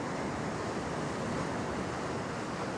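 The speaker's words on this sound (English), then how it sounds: "you can see there's a wave breaking out here" Ocean waves break against coastal rocks on a rocky fishing shore, a continuous rushing wash of surf with wind noise and no voices.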